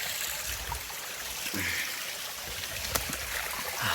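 Mountain stream water flows steadily along the Kumara Parvatha trekking trail near Kukke Subramanya, a close, continuous broadband trickle and rush with a few brief splashes rising above it.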